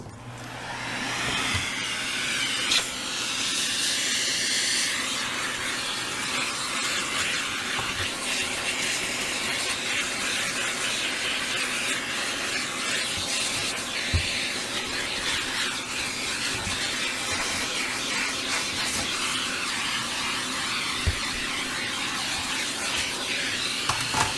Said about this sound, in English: So I'm going to do a quick vacuum on this and slam it back together.